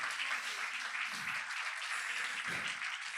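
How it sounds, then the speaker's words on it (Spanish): A church congregation claps in praise, a dense, steady wash of hands that holds at an even, fairly faint level throughout. "Dale fuertes palmas de alabanza al Cristo de la gloria."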